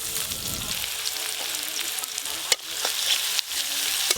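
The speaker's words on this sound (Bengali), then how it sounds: "মাছের ঝালের জন্য প্রথমে আমি গরম তেলে পেঁয়াজ কুচি দেব" Chopped onions sizzle in hot oil for a village-style Bengali fish curry, a steady broadband frying hiss with scrapes of stirring and two sharp clicks partway through, no voices.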